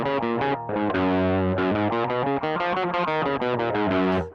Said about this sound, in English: Typically, a scale would sound something like this.